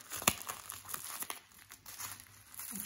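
Crinkling and tearing of packaging as a parcel from France is unwrapped, with a sharp rustle near the start, then softer intermittent crackles, close by and with no talk.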